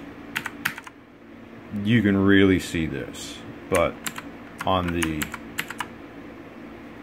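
Keys clacking on a Philips G400 SPK8401B mechanical keyboard, with bursts of quick, crisp clicks at the start and end and a person talking in the middle.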